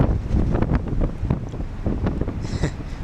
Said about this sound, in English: This is an amazing day. Huge waves.